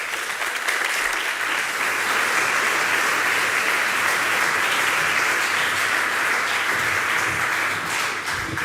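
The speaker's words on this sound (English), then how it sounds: "Can I have a very warm applause for Paul Alexander?" Steady, full applause from a large audience at an evening event, dense continuous clapping that holds at the same level throughout.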